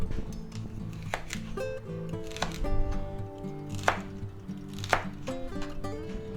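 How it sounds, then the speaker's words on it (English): A knife chops through celery on a cutting board for a potato and ham soup, with steady, close, crisp strikes coming in uneven bursts, and no talking. "Now we're going to cut up some celery here."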